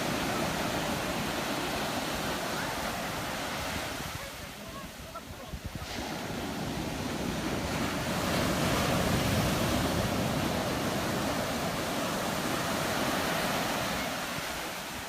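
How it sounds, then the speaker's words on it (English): Ocean shorebreak waves at Kua Bay crash and wash onto the beach in a loud, continuous roar of surf, with a brief lull before building again. "I think I see some big waves coming."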